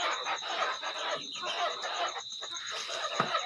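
Desi chickens raised indoors in a poultry house cluck and murmur continuously at close range, a busy low chatter of several birds with no talking.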